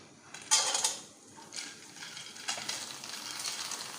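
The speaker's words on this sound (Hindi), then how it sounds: "आप इसको अच्छी तरीके से देख लीजिए क्योंकि हम इसको फ्राई कर रहे हैं" Food frying in hot oil in a home kitchen, a steady soft sizzle with a few louder bursts as pieces are moved, fairly quiet and close, with no voices.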